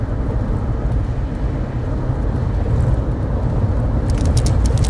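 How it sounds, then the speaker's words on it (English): Big trucks roll past on a road, a steady, loud broadband rumble of heavy engines and tyre noise filling the whole stretch without a break. "there are a lot of big trucks on the road today"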